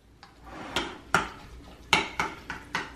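Yogurt sauce with garlic, salt and mint being mixed in a bowl, a spoon clinking against the bowl in a series of sharp taps and scrapes, close and uneven in rhythm.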